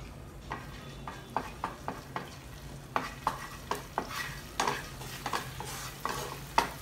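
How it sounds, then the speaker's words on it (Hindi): Chopped garlic sizzles in hot oil in a pan while cooking kung pao chicken. A utensil clacks against the pan in a steady run of sharp scraping strokes over a quiet, continuous frying hiss. "और गर्म हो गया है, इसमें डाल देंगे लहसुन"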